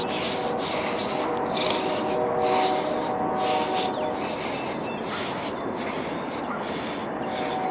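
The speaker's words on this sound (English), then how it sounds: "Y'all still hear the train?" A continuous rumbling, grinding roar of a train passing nearby, with rhythmic clacking and faint squealing tones throughout.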